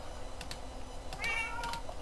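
Video game cats meowing softly, a few short mews and one longer rising meow in quick succession, faint under a low background hum with light clicking.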